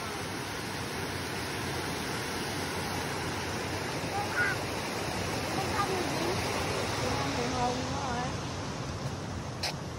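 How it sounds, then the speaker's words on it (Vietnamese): Water rushing down a man-made waterfall in the mountain town of Szczawnica, a steady broadband roar heard from a bridge, continuous and fairly even throughout. "Wow, nước chảy."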